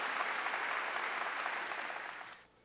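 A church congregation claps together during a worship service, producing a dense, sustained wash of applause that carries on steadily before fading out near the end.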